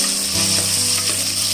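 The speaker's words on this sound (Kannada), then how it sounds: "ಇದನ್ನ 2 ನಿಮಿಷದ ಕಾಲ ಚೆನ್ನಾಗಿ ಫ್ರೈ ಆಗ್ಲಿಕ್ಕೆ ಬಿಡಿ" Mutton for rogan josh frying in a pot, a steady loud sizzle throughout with a constant low mechanical hum underneath.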